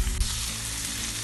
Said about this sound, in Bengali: ক্যাপসিকামটাকেও আমি সুন্দর করে ভেজে নিব।